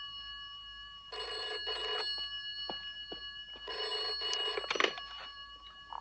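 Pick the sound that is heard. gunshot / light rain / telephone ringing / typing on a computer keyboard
telephone ringing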